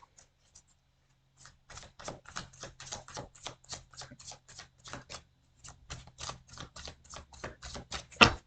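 Tarot cards are shuffled up close, a quick run of crisp, even flicking taps with a short pause midway, quiet and without talk.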